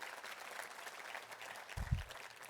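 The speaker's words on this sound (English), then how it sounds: "just want to give you a big round of applause for the work you do" Quiet applause from a roomful of guests at a housing benefit breakfast, a soft, steady patter of clapping heard from a distance, with a brief low thump near the end.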